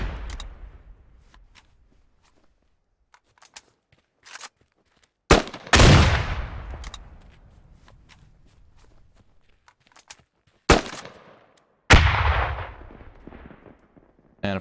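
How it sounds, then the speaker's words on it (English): An AK-47 underslung variant fires in the game Squad, with a few loud, separate shots spread out over quiet stretches. Each shot leaves a long rumbling tail, and soft footstep-like taps can be heard between them. "So here's the AK-47 underslung version,"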